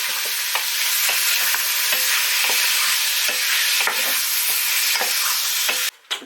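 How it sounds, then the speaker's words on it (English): Beef browns in a hot pan for steak and ale pie, giving a dense, continuous sizzle with regular spoon-stirring scrapes, close and loud, ending in a sharp clatter. "Give all that a good old stir. And allow that to brown for a few minutes."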